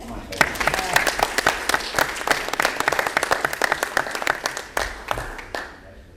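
A school board meeting crowd gives a round of applause for a school nurse, a modest group whose individual claps stand out as sharp, uneven hits, fairly close, tapering off at the end with some talking underneath.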